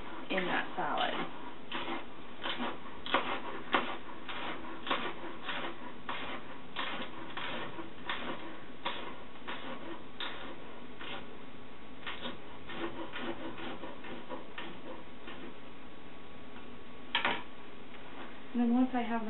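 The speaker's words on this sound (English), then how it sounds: "Now that I have these seeded, I'm just going to chop them up." A knife on a cutting board thinly chops seeded peppers for a Thai chicken strawberry salad, giving a fast run of close, crisp taps that thin out later, with a soft background hum and no talking.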